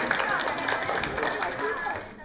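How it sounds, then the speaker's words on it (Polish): Applause from a classroom audience for a student group that has just presented a marketing project, a steady dense patter of many hands clapping at moderate volume with some voices mixed in. "Na pewno duże brawa dla tej grupy"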